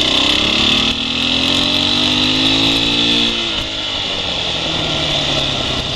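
A Husqvarna 701 Enduro motorcycle engine screams at high revs in third gear with a rising, sustained whine, loud and close, then eases slightly before holding steady.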